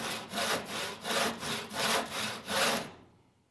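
A hand saw cuts wood along a clamped guide piece with six or seven steady, rhythmic rasping strokes close up, then the sawing stops and the sound fades out.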